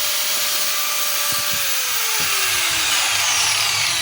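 A Stanley STGS5100S 4-inch angle grinder with a faulty switch that won't turn off runs with a loud, close, continuous high whine, its pitch sagging slightly as it keeps going, with faint knocks underneath.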